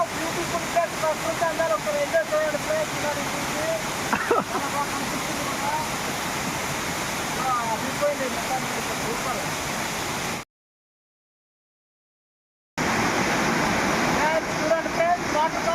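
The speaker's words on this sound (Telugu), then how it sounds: "చాలా చాలా పెద్దదనమాట ఇలాంటి వాటర్ ఫాల్స్" A steady, powerful roar of rushing water from a large waterfall in the Araku Valley hills fills the air continuously, dropping out briefly before returning just as loud.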